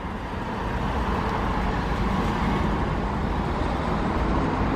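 A car drives past on a road, a steady broadband rumble of tyres and engine holding fairly loud and close for the whole stretch with no speech over it.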